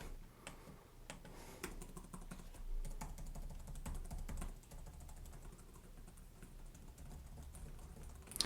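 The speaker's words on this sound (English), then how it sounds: "so it'll be nice to type on, but we'll just give it a quick typing test here." Keys clatter steadily on a Lenovo LOQ 15-inch gaming laptop keyboard during a quick typing test, a dense run of light, close clicks and taps.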